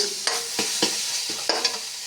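Cumin and turmeric fry in hot oil in a pan for a fish curry, a close sizzle broken by a handful of sharp spatula scrapes and taps against the pan, with no voices.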